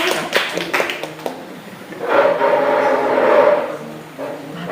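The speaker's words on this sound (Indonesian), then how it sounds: "Tepuk tangan dulu buat kelompok." A classroom of students claps for a presenting group, a short burst of sharp claps followed by a longer ragged round of applause from the class, fairly near, fading out at the end.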